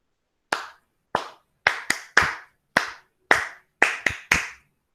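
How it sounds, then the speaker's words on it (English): A teacher claps hands in a rhythmic pattern, nine crisp, close claps in small groups with brief pauses between them, against a silent background. "Can you all do along with me with the clapping?"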